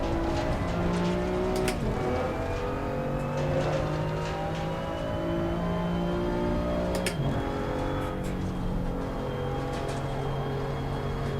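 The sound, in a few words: German GT4 race car engine in Assetto Corsa Competizione video game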